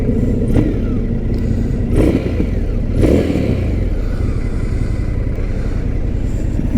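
A Harley-Davidson Street Bob motorcycle passes on the road, its engine rumble and wind-buffeted roar heard from a moving rider's perspective, loud and steady with brief gusty surges.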